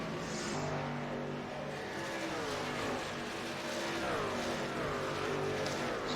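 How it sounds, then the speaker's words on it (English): Several racing trucks at Watkins Glen climb through an uphill left-hand bend, engines droning and revving with shifting pitch as they pass at moderate distance, a continuous layered roar with no talking. "See all these trucks making their way through that uphill left hand to go to the bus stops here"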